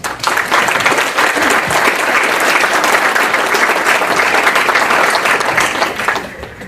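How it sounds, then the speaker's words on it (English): A hall audience at a candidates' night forum gives the city election candidates a round of applause. It is loud, dense and sustained, holds steady for several seconds and fades slightly at the end. "I invite the audience to join me on giving our candidates a round of applause."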